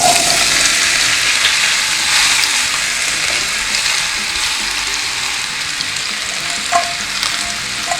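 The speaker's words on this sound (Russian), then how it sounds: "сковородку хорошо накалила, добавив подсолнечное масло и отправляю сюда картофель" Potatoes hit a well-heated pan of sunflower oil and sizzle loudly and steadily, a close, continuous frying hiss with a few small pops and no talking.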